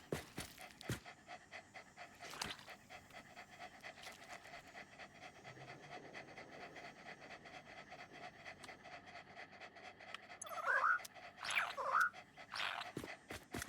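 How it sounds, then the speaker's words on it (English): Doggo creatures in the Satisfactory video game panting in a soft, rapid, continuous rhythm, faint and close, with a few brief sharper game sounds layered on top near the end. "Look at my flock of doggos."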